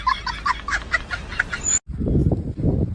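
Chickens cluck and chatter in a quick run of short calls, then after a brief gap a burst of lower, fuller squawking and fluttering follows.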